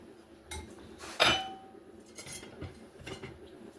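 A fork clinks and scrapes against a dish while mixing peanut butter into powdered sugar, giving a few sharp, close metallic taps spaced irregularly over quiet kitchen sound.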